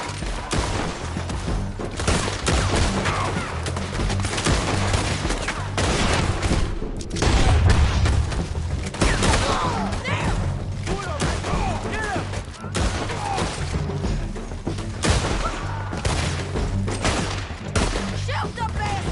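Gunfire from the Western game Red Dead Redemption 2 rings out in a dense, sustained fusillade of shots and booms, loud and close, with shouted voices mixed in throughout.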